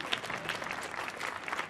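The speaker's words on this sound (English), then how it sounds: "Let's give him applause." An audience at a family night performance of an Oz show applauds in a steady, dense patter of clapping for a couple of seconds, with no voices over it.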